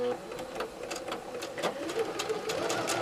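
A sewing machine runs steadily close up, stitching fabric pieces along a quarter-inch line, with faint clicks over the motor hum and no talk.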